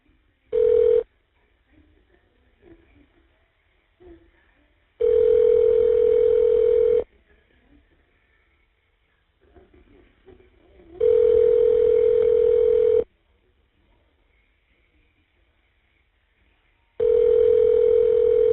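Steady tones sound on a phone line as a prison call is dialed. Four loud, evenly spaced beeps repeat in a slow pattern, the first short and the rest lasting about two seconds each, with faint background noise between them.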